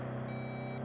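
A short electronic voicemail beep from the Saints Row video game sounds as a steady high tone over a constant low engine-like rumble.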